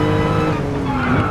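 A RUF CTR3 sports car in a VR racing sim revs hard, its harmonic engine note shifting pitch while the tires squeal and skid near the end of the short burst.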